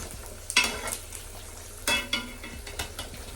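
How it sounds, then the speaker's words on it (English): Jamaican oxtail fries in a pot, a steady sizzle underneath two loud scraping stirs and several lighter clinks of the utensil against the pot, heard up close with no talking. "Yeah, oxtail fry as well."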